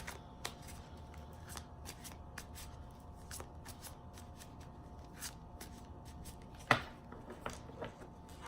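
Tarot cards being shuffled by hand, a soft, close, papery riffling and shuffling with irregular flicks and one sharper snap, quiet and alone without talk.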